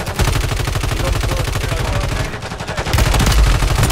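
Close, rapid automatic gunfire in the shooter Warzone, dense bursts of shots with a brief lull before a heavier final volley.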